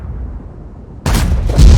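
A tank shell fires and penetrates in World of Tanks, a sudden loud boom breaking a quiet low hum and rolling on with a second heavier thump near the end.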